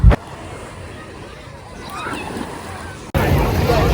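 Sea waves washing ashore at Jumeirah Beach Residence in Dubai, a rushing surf roar with wind buffeting the microphone and faint beachgoer voices in the background, growing louder near the end.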